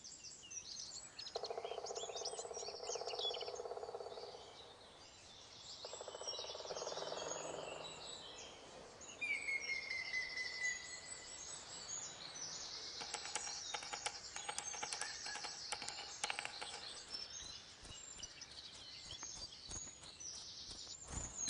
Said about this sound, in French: Des dizaines d'espèces d'oiseaux y vivent, dont 8 espèces de pics, un record pour une forêt européenne.